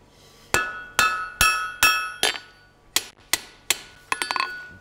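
A hammer rings on a steel tie bar over an anvil, about a dozen sharp metallic strikes in uneven rhythm with a quick flurry at the end, close and clear with no voices.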